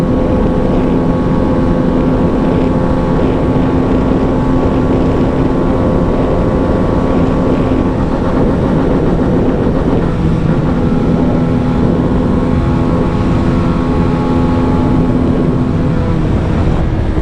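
Hero Karizma XMR motorcycle engine held near top speed, droning loud and steady with a sustained tonal whine and heavy wind rush, the revs briefly cutting off and surging back midway.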